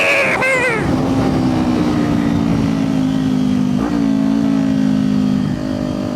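A 400cc motorcycle revs hard on a street, its engine close and loud, holding a steady drone with brief surges as the throttle is wrung.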